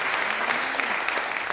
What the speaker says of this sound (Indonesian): Yuk tepuk tangan buat Tuhan